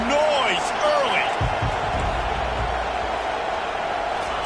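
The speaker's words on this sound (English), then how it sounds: "This crowd bringing the energy and noise early." A football game crowd keeps up a steady, loud roar of cheering and noise for the whole stretch, with an announcer talking over it.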